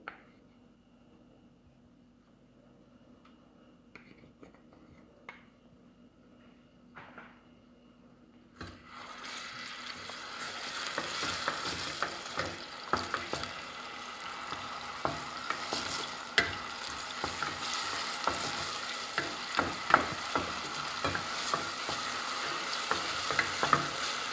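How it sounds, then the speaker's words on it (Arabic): Garlic cloves dropped into hot oil: after several seconds of near silence a steady close sizzle bursts in and continues, with scattered sharp crackles and occasional utensil taps. "وهننزل بفص الثوم على الزيت"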